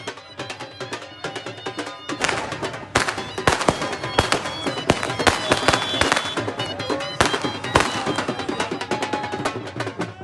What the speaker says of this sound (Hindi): ढोल धमाके के साथ खूबसूरत आतिशबाजी से फ़ज़ा जगमगा उठी।